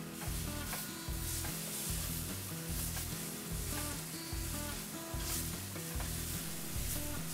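Mushrooms frying in a pan, a continuous sizzle broken by regular stirring strokes and scrapes that repeat every second or so, fairly quiet and without voices.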